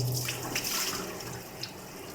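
Cold water runs steadily from a tap, a quiet, even hiss and splash that continues throughout the short stretch without talk.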